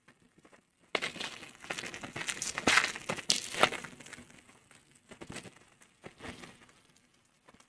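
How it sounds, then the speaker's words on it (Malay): Plastic is crumpled right in front of a Comica STM USB condenser microphone, loud close crinkling bursts that come in waves after a quiet opening, with no talking. "So kita akan renyukkan plastik ni"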